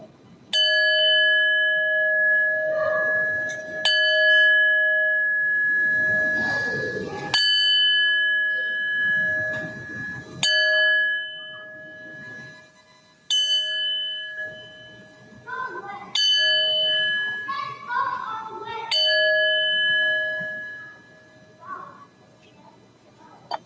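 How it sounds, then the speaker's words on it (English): A church bell at a Unitarian Universalist Sunday service struck seven times, each clear ringing strike decaying slowly into the next, with soft room noise and faint voices between strokes. "ringing the bell 7 times in honor of our 7 principles"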